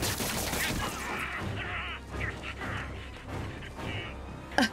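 Enemies firing in the Spider-Man video game: rapid bursts of gunshots rattle steadily over loud, chaotic game action, with a sharp crack near the end and only brief voice fragments mixed in.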